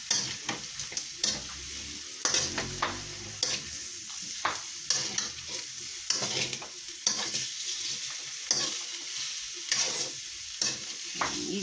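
Lechon paksiw sizzles in a pan while a utensil stirs and scrapes it, with regular clacks against the pan repeating over the steady fry hiss.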